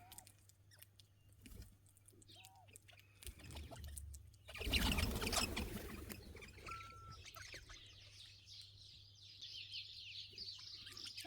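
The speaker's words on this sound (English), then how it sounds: "I'll show you the birds first." Wild birds call outdoors among Australian species including a galah, with scattered chirps and squeaks, a loud burst of fluttering wings in the middle, then a steady chorus of chattering calls resuming close by.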